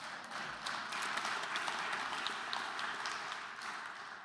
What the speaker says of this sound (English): yeah, you can clap on that